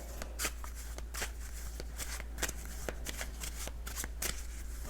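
Rapid riffling of playing cards being shuffled, crisp papery bursts repeating in quick succession, close up, with no voices.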